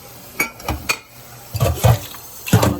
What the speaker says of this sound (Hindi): चावल ही तो धोया था